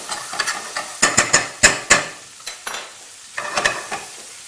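Pumpkin pickle ingredients are stirred together in a hot pan, with a run of sharp spoon scrapes and knocks against the metal over a light sizzle, close and fairly quiet, with no voices.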